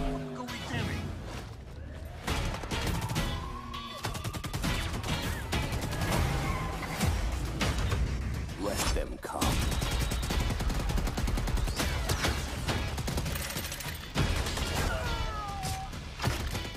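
Grenade launcher scorestreak firing in Black Ops Cold War multiplayer, with repeated sharp blasts and rapid gunfire crackling through a busy, loud battle soundscape that includes crashes and scattered tonal effects.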